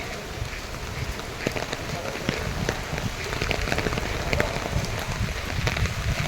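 Heavy rain pours steadily on the ground and an umbrella, a dense continuous patter with occasional louder drops and gusty rushes of wind, close and loud throughout.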